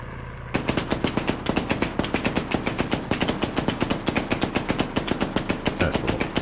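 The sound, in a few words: gunfire in the video game Arma 3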